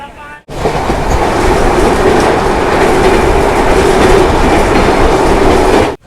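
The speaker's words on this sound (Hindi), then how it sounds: "गाड़ी अपनी पहुंच चुकी है पहली stop Madhupur junction railway station" Jasidih–Vasco Express rolling on the rails toward Madhupur Junction, a loud, continuous rumble with steady wheel clatter that starts abruptly and holds for several seconds, close to the listener.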